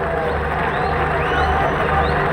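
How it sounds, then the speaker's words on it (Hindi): Crowd at a Pakistan Peoples Party public march rally in Multan cheering and clapping for Yousuf Raza Gilani, a dense sustained roar of voices and hands with a loudspeaker voice over it. "तो एक ताली तो बनती है गिलानी साहब के लिए"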